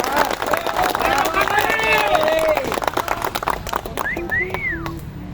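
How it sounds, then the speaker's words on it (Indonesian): Crowd at a workers' rally applauding the labour ministry, dense clapping under cheering and whistles with loud crowd noise, then fading into scattered claps and shrill whistle calls. "Kalau begitu tepuk tangan juga dong untuk Des Ketenagakerjaan."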